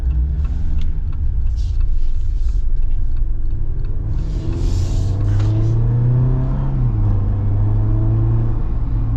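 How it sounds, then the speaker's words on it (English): 2025 Jeep Wrangler Willys on mud terrain tires, heard from inside as a steady low engine rumble and road roar with rising revs and a whirring tire hum throughout; no talking. "Mud terrains do create a little bit more noise, so that is something to consider."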